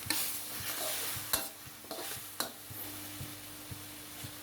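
Dark soy sauce hitting a hot wok during a stir-fry, a steady hiss of sizzling with repeated spatula scrapes and knocks against the pan, close and clear, no one talking.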